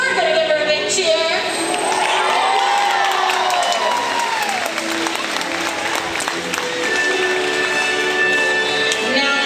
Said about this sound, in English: when you see Katina do that nice big jump on stage, we're going to give her a big cheer